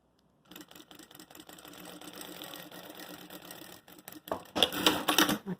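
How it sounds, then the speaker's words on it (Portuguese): A sewing machine stitches through the plastic of a makeup case, running in steady bursts of rapid mechanical clatter that grow louder and denser near the end, with no talking. "venho passando essa costura só pra segurar mesmo o plástico"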